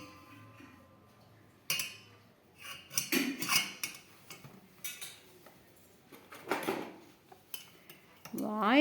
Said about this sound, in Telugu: ఇప్పుడు మిక్స్ చేయి